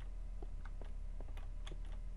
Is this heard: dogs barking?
no